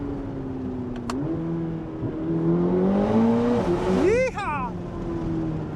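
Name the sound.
Chevy Corvette ZR1 flat plane V8 engine revving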